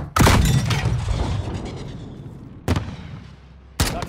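A grenade explodes in the Modern Warfare 2019 Embassy mission, a loud close boom that decays over a couple of seconds, followed by two more sharp blasts or gunfire cracks.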